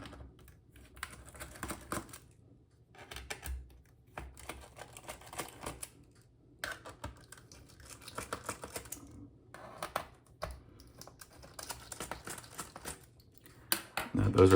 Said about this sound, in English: turn over your laptop case and you'll locate the 6 screws. You're going to back them out. This is using a J1 screwdriver bit.